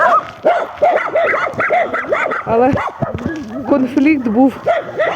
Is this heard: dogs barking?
yes